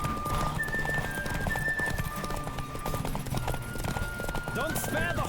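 A horse gallops with rapid, steady hoofbeats and gives a whinny in The Witcher 3: Wild Hunt, under sustained game music and a character's shouting.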